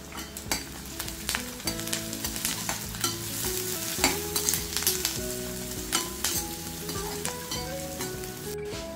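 Chopped onion, curry leaves and asafoetida sizzle steadily in hot oil in a pan, with repeated clinks and scrapes of a spoon stirring close by.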